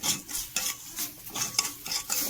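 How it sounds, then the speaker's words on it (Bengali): A spoon stirs sugar with a little water in a pot while a sweet filling is made, giving quick, repeated scraping strokes close by, with no voices. "চিনি দিয়ে একটু নাড়াচাড়া করবো।"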